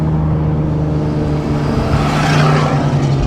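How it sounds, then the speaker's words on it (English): Infiniti Q60 running a stock motor on Z1 turbos revs hard, a loud, steady engine drone held close throughout. "Yeah, that truck is wailing."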